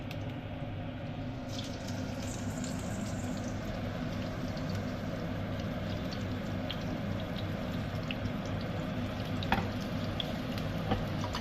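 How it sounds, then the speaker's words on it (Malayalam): Unnakkaya shallow frying in hot coconut oil in a home kitchen, giving a steady, even sizzle throughout with a few faint clinks and pops, no talking. "നമുക്കിനി ഓരോന്നിനെ പതിയെ പൊരിക്കണം"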